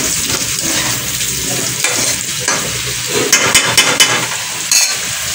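Potatoes frying in a pan give a loud, steady sizzle with stirring and a few sharp scrapes or clinks toward the end, and no voices.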